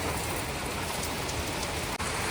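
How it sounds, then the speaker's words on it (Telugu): Heavy rain pours down in Bengaluru, a dense, steady hiss of drops hitting surfaces, uniform and unbroken apart from a tiny click near the end. "అన్ని ఊర్లలో విపరీతంగా ఎండ కాస్తుంటే బెంగళూరులో మాత్రం విపరీతంగా వర్షం"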